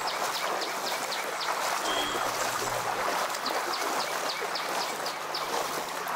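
Floodwater from a filled lake runs along a street in Anthiyur, Erode district, after heavy rain, a steady broad rushing wash with faint bird chirps above it.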